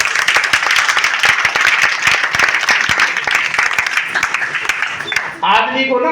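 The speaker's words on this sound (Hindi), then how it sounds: "जोरदार तालियां मैडम के लिए।" Audience applause at a meeting, dense loud clapping from a crowd sustained for several seconds before tapering off, with a voice speaking at the very end.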